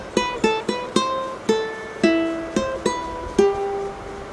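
A ukulele picks out a song melody: about a dozen bright single plucked notes at a steady, moderate pace, each ringing briefly, played alone and close.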